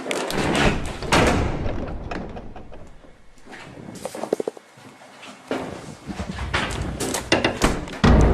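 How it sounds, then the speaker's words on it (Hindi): In a haunted house, a door slams shut by itself. Several loud thuds and bangs ring out in a quiet room, with softer knocks and creaks between them. "उस रूम का दरवाजा अपने आप बंद हो जाता है"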